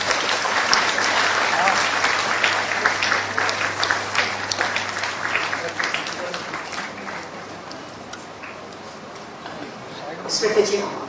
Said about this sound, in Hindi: तालियां आपकी तरफ से जरूर हो।